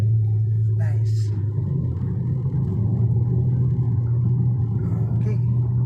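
Car engine hum rising slightly as the learner driver presses the gas during a driving lesson, with an instructor speaking over the steady rumble.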